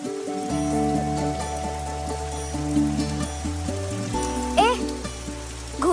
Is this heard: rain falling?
yes